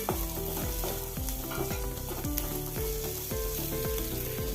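Curry leaves frying in coconut oil with ginger for a kudampuli (Malabar tamarind) chutney give a continuous loud sizzle, with rhythmic scraping strokes of stirring repeating throughout and no voices.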